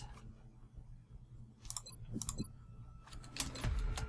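Typing on a computer keyboard, scattered clicking keystrokes in short clusters over low background noise, fairly faint and close.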